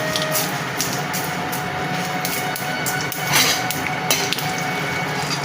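Mustard seeds, asafoetida and urad dal frying in hot sesame oil give a steady, close sizzle with scattered crackles and faint pops.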